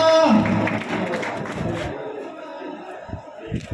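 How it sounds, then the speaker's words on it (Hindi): A crowd at a roof-opening celebration applauds and cheers a guest, loud at first with a voice calling over it, then thinning into scattered claps toward the end. "यार तालियां तगड़ी होनी चाहिए जवानों"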